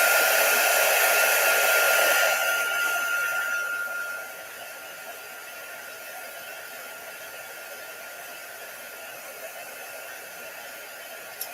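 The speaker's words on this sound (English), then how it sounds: "Let's give that another quick shot of some heat to help dry that along." A heat tool blows a loud, steady whoosh while drying a Christmas ornament craft project. After a few seconds it drops to a quieter, continuous hum that lasts to the end.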